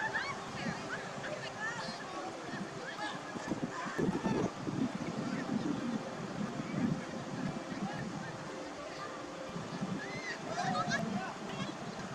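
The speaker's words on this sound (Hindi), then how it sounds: "और एक बार फिर हमें पानी क्रॉस करना था।" People wade across a forest stream while camping in Arunachal. Water swishes and sloshes steadily around their legs, with a breezy outdoor hiss and voices talking over the splashing.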